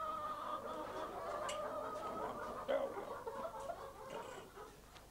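Battery hens that have never been outdoors cluck and murmur together in a dense, moderately distant chorus, with a steady flock hum and a few sharper calls standing out.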